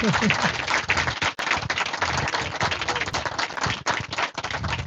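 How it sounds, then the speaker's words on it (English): An audience at a talk on Vedic wisdom in San Jose claps for the speaker, steady and fairly close, with scattered voices mixed in. "Let's give a big round of applause to Hari Bhakti Prabhu"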